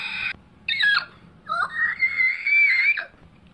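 Screaming voices in a plush-toy animatronic scene, a short shrill cry, then a longer wavering, rising high scream, loud and close with faint background noise and no other talk.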